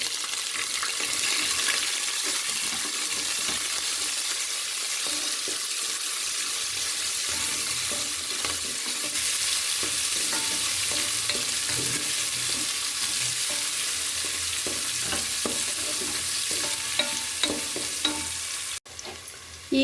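Onions and curry leaves frying in hot oil in a pan, a steady dense sizzle running throughout with some stirring and utensil scrapes, close and fairly loud, with no talking.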